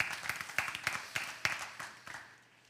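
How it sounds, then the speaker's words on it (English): A church congregation claps sparsely, a handful of distinct, fairly close hand claps arriving in small irregular clusters before tapering off into quiet. "You should clap."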